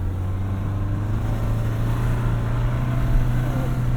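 A 2025 Toyota 4Runner Trailhunter with the iForce Max hybrid powertrain drives off road with the rear differential locked, its engine a steady, loud low drone with rumbling road noise throughout, no voices.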